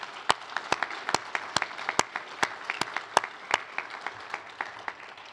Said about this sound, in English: So let's give a round of applause for Cheryl.